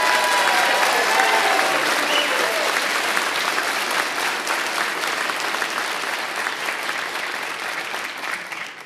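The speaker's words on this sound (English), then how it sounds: "have a big round of applause for our Williamsburg firefighters" An audience at a fire academy recruit graduation claps loudly and continuously, dense applause that fills the room and slowly fades toward the end.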